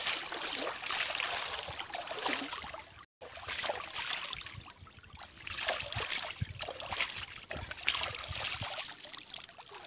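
Cleaned fish being washed under running water outdoors by a riverside, with a steady trickling, splashing flow and irregular louder splashes throughout.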